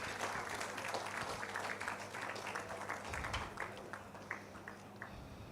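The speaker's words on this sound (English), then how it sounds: "Let's give him a round of applause." Banquet audience applauding an award recipient at an anniversary awards dinner, a steady wash of clapping that stays fairly even for several seconds, with low hum underneath and the crowd thinning slightly near the end.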